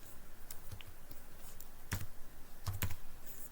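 Someone types on a computer keyboard while writing HTML code, with a few sparse, sharp key clicks and a quick double tap near the end over quiet room noise.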